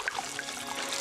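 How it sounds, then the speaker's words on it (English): Water trickles and drips from a squeezed sponge in a cartoon scene, a short run of light splashy droplets heard softly and alone. "The sponge is empty again! All I had to do is squeeze it!"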